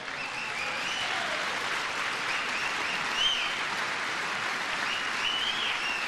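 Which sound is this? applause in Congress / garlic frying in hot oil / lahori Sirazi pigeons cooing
applause in Congress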